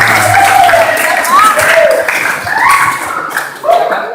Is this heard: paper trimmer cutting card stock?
no